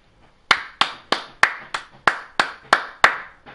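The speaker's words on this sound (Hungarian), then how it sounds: "Feltűnt, hogy csak én tapsolok?" Single person clapping hands, about ten sharp, close claps spaced roughly a third of a second apart in an even rhythm, loud against near silence.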